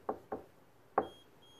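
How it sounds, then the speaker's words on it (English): Three sharp knocks land on a door fitted with a vibration-sensing lock, two close together and a third after a pause, each distinct and fairly faint, followed by a thin electronic tone. "That was three knocks at the start and one knock at the end."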